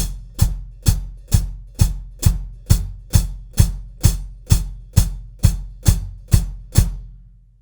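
Steady quarter-note thumps from a drum kit played heel down with both feet, about fourteen even hits of bass drum and hi-hat pedal, close and alone, ending in a short decay.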